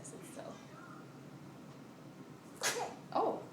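An infant lets out a small, sharp sneeze in a quiet room, followed by a second soft burst, with light breathing and a faint adult murmur around it.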